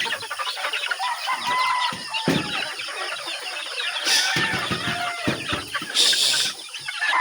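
Chickens clucking in a backyard breeder's coop, a busy overlapping chorus of close clucks and short calls, with a few brief louder squawks and bursts; no one speaks.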